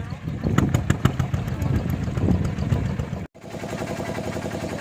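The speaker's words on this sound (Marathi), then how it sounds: "चला आता आमची बोट निघाली आहे" A small boat's engine starts up and runs steadily as the boat sets off across Dabhol creek on the Konkan coast. The motor is close and fairly loud, and people talk over it.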